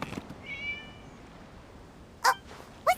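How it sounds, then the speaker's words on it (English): Cat meowing in the Genshin Impact video game: a drawn-out mew followed by two short, bright meows, fairly faint over a quiet game ambience, with no talking. "It was just a cat."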